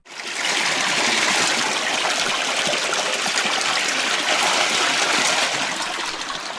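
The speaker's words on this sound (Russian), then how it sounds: "Родник Кусави восстановлен в 2017 году." Water from the restored Kusavi spring pours steadily in a continuous gushing splash, close and loud, starting abruptly and holding an even rushing tone throughout.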